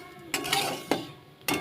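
Spices being lightly dry-fried in a pan, stirred with a utensil that scrapes and clinks against the metal three times in quick strokes, close and fairly quiet with no talking.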